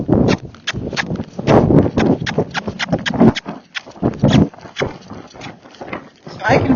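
Hoofbeats of a Missouri Fox Trotter gaited horse cantering come in a loud, rapid, uneven rhythm close by, with someone talking over them throughout.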